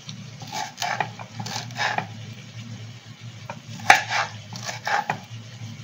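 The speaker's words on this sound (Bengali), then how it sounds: "এই যে ক্যাপসিকাম আর টমেটোটা কাটা বাকি আছে এখনো, এটা আমি কেটে নিচ্ছি, বড় বড় করে কেটে নিচ্ছি।" Capsicum and tomato being cut into large pieces on a board: soft, irregular knife taps and thuds with one sharper knock, in a quiet kitchen.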